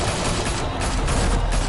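Sustained volley of gunfire in the Batman Telltale video game, a dense, loud, continuous barrage of shots filling the whole moment with no clear gaps.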